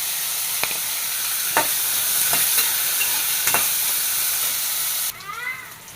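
Carrot and coconut pieces frying in a pan for chammanthi, with a steady sizzle and several sharp scraping stirs of a spoon, then a softer, quieter stretch near the end.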